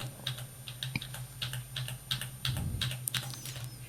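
Keys pressed on a computer keyboard during Corel Draw work, a steady run of light clicks and taps close by against a constant low hum, with no voices.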